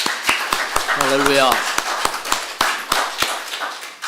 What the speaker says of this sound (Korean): 우리 성가대 너무너무 수고 많이 하셨는데 다시 한번 박수로 한번 크게 하십시다